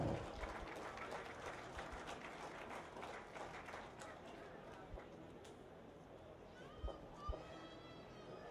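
Audience applause for sponsors at a dairy show, steady clapping from a crowd lasting several seconds before thinning out, with a few louder knocks and faint background voices near the end.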